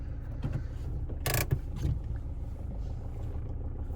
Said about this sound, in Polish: Ja sobie pozwolę usiąść, odpalimy samochód.